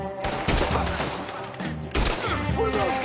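Gunfire in a Red Dead Redemption 2 shootout, a dense fusillade of repeated shots at close range, loud and continuous across the moment with a brief lull midway, mixed with game sound and voices.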